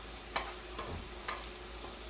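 A spoon stirs salt into hot water cornbread mix in a bowl, giving a few soft scraping taps spaced about half a second apart over a low steady background hiss, quiet and close.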